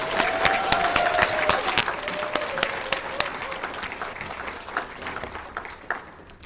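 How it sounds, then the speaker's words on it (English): Applause from the audience at an award gala, steady clapping from a full room that gradually thins and fades, with a faint tonal whistle or cheer running beneath early on. "one more giant round of applause for Eliza."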